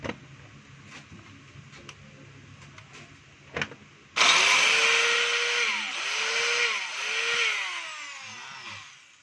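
A DeWalt DWE8100S 4-inch angle grinder with a suspected bad bearing and gear, switched on after a few quiet knocks and clicks, then whining loudly and steadily with a harsh, wavering, rough-running tone.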